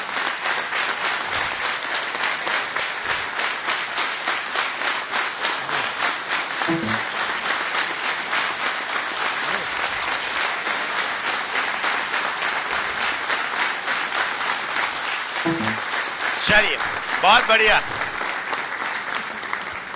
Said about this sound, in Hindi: कुछ लोग हैं कि जो ताली बजाते